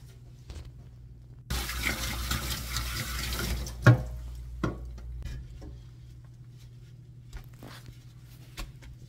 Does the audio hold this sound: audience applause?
no